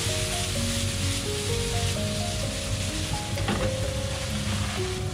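Minced scallion, ginger and garlic fry in hot oil in a wok, a dense steady sizzle like heavy rain, loud and unbroken, with faint tonal music running underneath.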